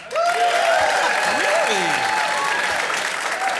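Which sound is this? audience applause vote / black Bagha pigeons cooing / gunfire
audience applause vote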